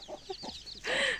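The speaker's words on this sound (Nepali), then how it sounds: "हाम्रो चल्लाहरू हेर्न सक्नुहुन्छ त्यही छोरीको चल्ला कुखुरा मुनुलाई पाइ गरेर आएको" Farmyard chickens cluck close by, with a few short soft clucks followed by a louder, longer squawking call near the end.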